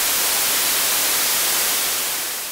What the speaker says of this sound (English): Very bright sound, cutting off the low frequencies.